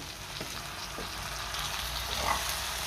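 Sprouted moth beans frying with potatoes in a spiced curry masala in a pan give a steady, close sizzle with soft stirring scrapes. The sound stays even and moderately loud throughout, with no talking.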